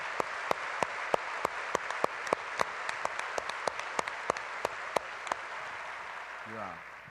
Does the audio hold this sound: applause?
yes